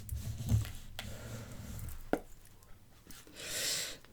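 A deck of tarot cards is cut by hand, giving a few soft shuffling taps and brushes of cardboard, close and quiet, with a brief louder swish near the end and no voices.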